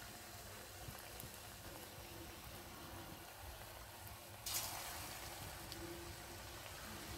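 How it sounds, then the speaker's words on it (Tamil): Snake gourd rings fry in hot oil with a faint, steady sizzle that swells into a brighter hiss about two-thirds through, as more pieces go in. "இப்போ நம்ம மிக்ஸ் பண்ணி வச்சுருக்க இந்த புடலங்காவை எண்ணெயில் போட்டு எடுத்துடலாம்."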